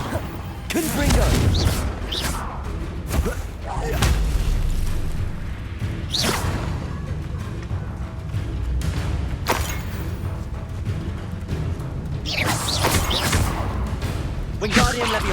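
Fiery Confringo blasts from Hogwarts Legacy go off as a run of loud booming explosions with whooshing bursts, spread across a busy spell-casting fight with a voice talking over the action.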